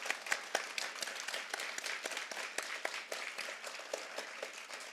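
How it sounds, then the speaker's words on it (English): A school assembly applauds award winners with many hands clapping at close range, sharp individual claps standing out from the dense, steady applause throughout. "let's give all our award winners a very, very big round of applause today"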